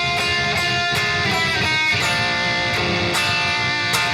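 Rhythm riff on a heavily distorted electric guitar, a dense, loud, continuous chug with sharp accented hits throughout, played alone.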